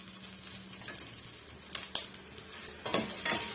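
Curry leaves and tamarind sizzle in hot oil for a garlic kuzhambu, with a spoon stirring and scraping the pan in a few louder strokes over a steady frying hiss.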